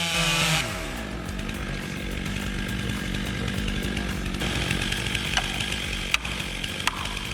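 A Stihl 090 AB chainsaw with a 160 cc engine roars at full throttle deep in the woods while cutting a 5-foot cedar, a loud, steady, close buzzing drone with a few sharp knocks near the end.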